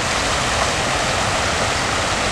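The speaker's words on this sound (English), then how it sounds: "nice waterfall" A man-made waterfall in the desert in Qatar pours continuously, a dense, loud, broadband rush of falling water with no breaks, heard up close and alone.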